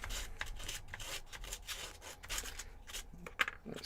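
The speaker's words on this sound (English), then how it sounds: "sand down both sides of that." Sandpaper rubs back and forth on a small wooden part of a model aircraft, quiet close rasping strokes in an irregular rhythm, with no talk.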